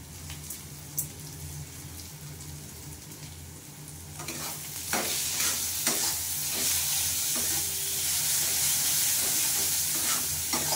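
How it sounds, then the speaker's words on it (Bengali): Fish pieces frying in a pan with turmeric, Kashmiri chili powder and salt, a quiet sizzle swelling into steady frying with repeated scraping stirs and clinks of a spatula throughout. "দিয়ে ভালো করে কষিয়ে নিচ্ছি।"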